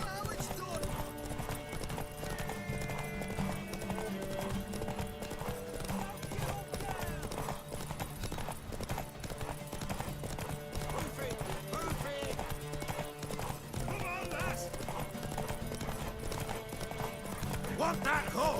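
Horse hooves clip-clop in The Witcher 3 video game, a steady rhythmic trot with a horse whinnying, while character voices talk over it and game music plays beneath.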